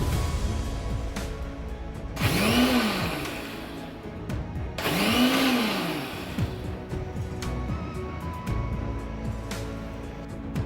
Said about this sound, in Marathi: मिक्सरमध्ये आपल्याला जास्त वेळ फिरवायचं नाही आहे फक्त ऑन ऑफ मोडवरती आपल्याला रस काढून घ्यायचा